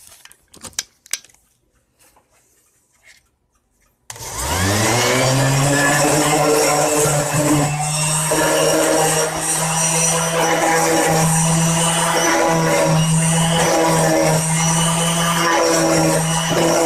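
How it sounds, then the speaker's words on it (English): A random orbital sander with 220 grit sandpaper starts after a few faint clicks and then runs loud and steady close by, its motor whine holding for over ten seconds with slight scraping variations. "220 grit sandpaper on a random orbital sander"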